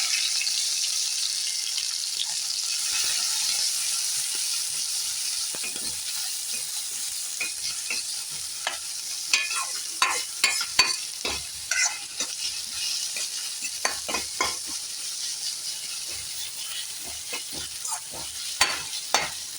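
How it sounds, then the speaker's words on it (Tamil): Finely chopped large onion fries in a pan, a soft continuous sizzle with a run of sharp scraping and tapping as it is stirred, growing busier toward the end. "நல்ல ஒரு பெரிய ஆனியன் கட் பண்ணி வச்சுருக்கேன் பொடியாக, அதை போட்டுடலாம்"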